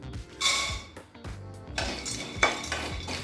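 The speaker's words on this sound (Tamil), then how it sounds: "முதல்ல அரை கப் வேர்க்கடலையே சேர்த்துக்கலாங்க." Half a cup of peanuts tipped into a pan for dry roasting while making peanut tomato chutney, giving clattering metallic clinks and scraping stirs in irregular bursts, close and fairly loud.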